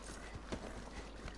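Faint horse hooves clip-clop in The Last of Us video game, a few soft, spaced steps under a low, steady background.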